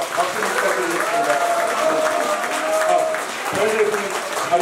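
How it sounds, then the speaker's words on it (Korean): An audience at a book concert for a book launch applauds in a steady, moderately loud stream while a voice speaks over the clapping. "박수 부탁드리겠습니다"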